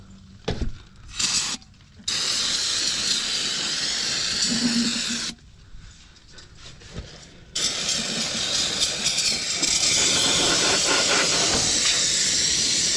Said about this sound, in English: Just gonna go in and shoot as much brake cleaner as I can just to clean it up a little bit.